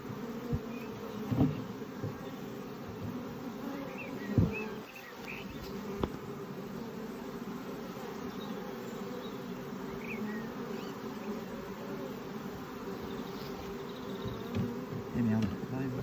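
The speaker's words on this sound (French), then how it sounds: "j'ai toujours l'abeille qui est en train de me piquer la cuisse là" Honeybees buzz steadily in a dense swarm around a hive during a spring honey flow, a continuous close drone with a few louder passes near the microphone.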